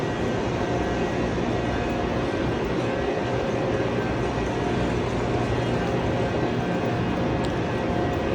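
A white high-speed bullet train bound for Jeddah stands at a station platform, with a continuous loud low rumble and hum throughout.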